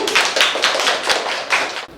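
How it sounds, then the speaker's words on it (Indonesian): Classroom applause from students for a group that has just presented, a ragged burst of hand clapping with rhythmic peaks, close and continuous for a couple of seconds. "Tepuk tangan untuk yang ini."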